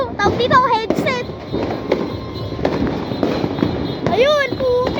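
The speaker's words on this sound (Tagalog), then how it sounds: "Fireworks." Fireworks bursting over a neighbourhood street in the Philippines, a string of sharp near cracks and booms with whistling rockets rising in pitch, loud and irregular, with faint voices in the background.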